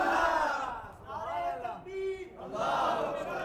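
A large crowd at a religious gathering chants a slogan in unison, a loud sustained roar of voices that rises, dips briefly, then swells again.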